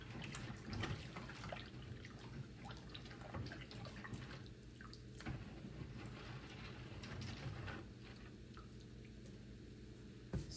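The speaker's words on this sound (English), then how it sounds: "So I'm gonna put the wig in the water to see how it takes" A wig is lowered into a basin of water, giving faint, soft squishing and light dripping sounds that are quiet and scattered throughout.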